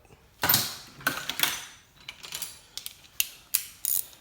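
A ratchet with a 5/8 socket tightens a Dash 4 AN fitting, with quick close clicking bursts in short irregular strokes and no talk.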